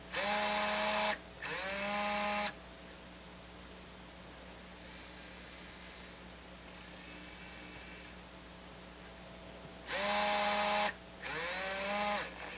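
A 15 kilogram hobby servo motor whirs in short high-pitched electric bursts, two at the start and two near the end, with a fainter, softer run in between and no talking.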